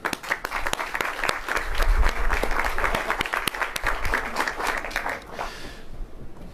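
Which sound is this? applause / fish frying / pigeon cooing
applause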